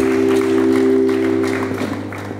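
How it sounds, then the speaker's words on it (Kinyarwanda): Church congregation clapping together during a worship service, a steady mid-loud patter of many hands held over a sustained organ or keyboard drone that carries through the whole stretch. "Reka twongere dukomere Imana amashyi menshi cyane."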